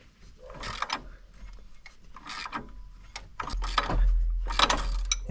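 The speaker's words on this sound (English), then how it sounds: "this pulley is coming off really well" A power steering pump pulley is pulled off a 2009 Chevrolet Suburban, giving close mechanical grinding and ratcheting bursts in uneven clusters, growing louder toward the end, with no talking.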